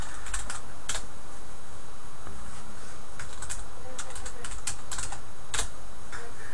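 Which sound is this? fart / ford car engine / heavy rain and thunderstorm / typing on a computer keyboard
typing on a computer keyboard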